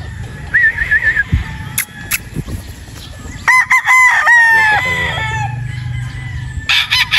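A pure Boston Roundhead broodstag rooster crows loudly and close by, with a couple of drawn-out cock-a-doodle-doo calls mixed with clucks and short squawks over low outdoor background noise.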